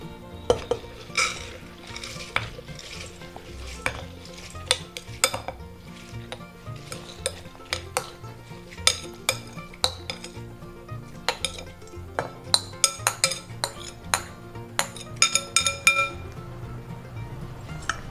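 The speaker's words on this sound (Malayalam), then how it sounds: "ഈ കുക്കറിനകത്തേക്ക് നമുക്ക് മുതിര ഇട്ട് കൊടുക്കാം." Dry horse gram pours into a metal pressure cooker in a home kitchen, with a run of sharp clinks and rattles from the pot and utensils rising and falling close by.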